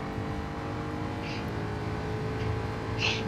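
A race car engine drones steadily with a couple of brief revs toward the end, heard from a distance at Kyoto Driving Park.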